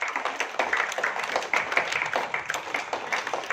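Audience applause at a school award ceremony as Silambam medal winners are called to the stage, a steady patter of many hands clapping at moderate volume throughout, with faint voices underneath.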